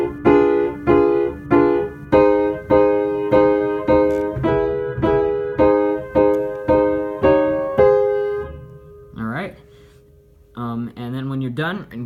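Piano playing a Maple Leaf Rag chord passage: about a dozen loud, evenly spaced sustained chords in a steady rhythm, then a brief pause and a couple of softer notes near the end.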